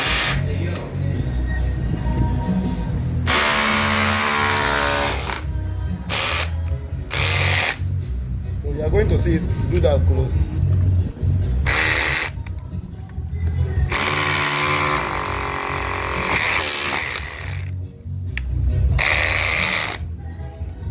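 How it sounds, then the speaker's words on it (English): A DongCheng DCZC 13 cordless rotary hammer with a 12-volt battery and SDS bit drills in loud, repeated bursts separated by short pauses, with someone talking close by between and over the runs. "this is the power of the DongCheng cordless rotary hammer"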